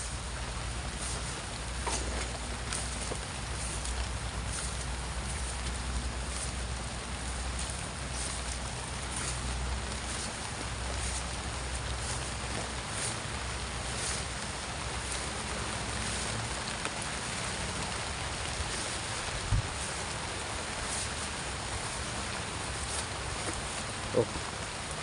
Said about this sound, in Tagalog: Kasi umulan-ulan tol eh.